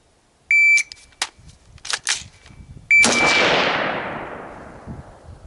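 A rifle with an ambidextrous charging handle is fired on a range during a timed reload drill: a shot timer beeps, then handling clicks and clacks of the weapon are followed by one loud, close gunshot that echoes and decays for several seconds.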